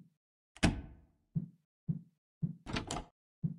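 Repeated dull thuds of a locked door being tried in the horror game Paranoiac, several short knocks and rattles spaced about half a second apart, with two louder, sharper bangs among them.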